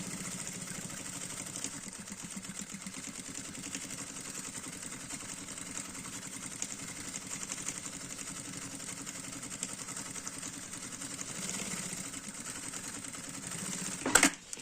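A sewing machine stitches around the edge of a small fabric baby pouch with a quiet, steady, rapid mechanical whir. A short clack comes near the end.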